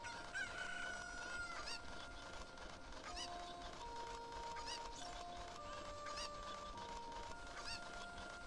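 A chicken in Zelda: Ocarina of Time clucks and crows repeatedly, the bird calls recurring over sustained background game tones.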